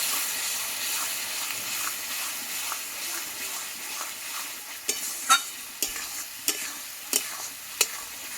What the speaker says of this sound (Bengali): এবার অল্প একটু আমি জল দেবো, এই মশলাটা আবার কিছুক্ষণ মতো কষিয়ে নেব